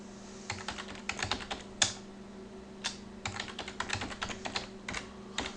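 Quiet, close typing on a computer keyboard, bursts of key clicks with short pauses and a steady low hum in the background.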